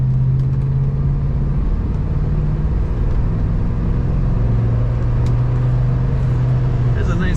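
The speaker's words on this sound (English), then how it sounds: "There's a nice throaty exhaust sound." A 1969 Buick Wildcat with an automatic column shifter idles steadily nearby, its throaty exhaust giving a low, continuous rumble throughout.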